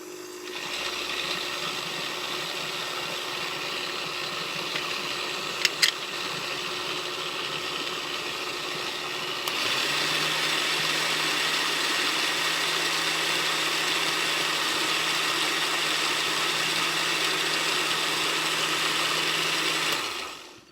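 A blender whirs steadily as it mixes an elderberry honey mixture with powdered ginger root and grape juice, running alone for the whole stretch, then jumping to a louder, higher motor pitch partway through before stopping at the end.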